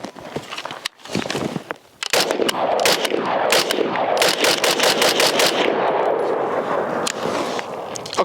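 Springfield Armory Hellion bullpup rifle firing its first rounds, loud close shots in a quick series of rapid regular cracks after a few opening shots, with no speech.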